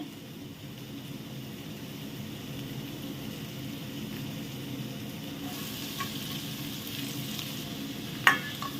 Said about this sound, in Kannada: ಇದನ್ನು ಚೆನ್ನಾಗಿ ಫ್ರೈ ಮಾಡಬೇಕು ಸ್ವಲ್ಪ ಹೊತ್ತು ಸ್ವಲ್ಪ ಕೆಂಪು ಬಣ್ಣಕ್ಕೆ ಬರಬೇಕು